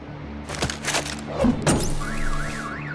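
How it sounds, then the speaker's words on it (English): A car alarm in the Batman: The Enemy Within video game, set off by a bat stunner: a thump and scrape, then a wavering electronic alarm tone rising and falling over a low game score. "My bat stunner would set off the car alarm."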